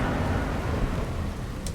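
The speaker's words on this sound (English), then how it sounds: "It's raining hard." Heavy rain in the video game Mass Effect 2 pours down in a dense, continuous hiss with a low rumbling undertone, steady and loud throughout.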